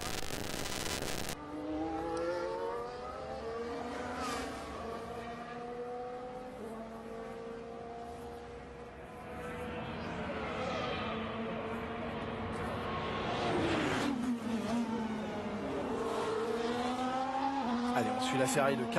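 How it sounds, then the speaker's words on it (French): A high-revving 2022 Formula 1 car engine during practice at the Bahrain Grand Prix whines continuously, pitch climbing and falling through gear changes, with tire squeal and speech layered over it. "Allez, on suit la Ferrari de Carlos Sainz."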